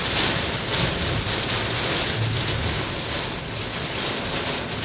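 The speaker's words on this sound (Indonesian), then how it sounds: "Wih, hujan angin." Heavy rain pours with strong wind on the Jalan Raya Bandung road in Cianjur, a dense constant roar with no breaks, loud and close.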